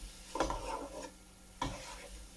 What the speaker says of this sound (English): And let's just stir those in